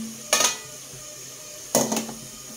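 A lid goes onto a cooking pot of cassava suman with two short metallic clanks about a second apart, each with a brief ringing rattle, in an otherwise quiet kitchen.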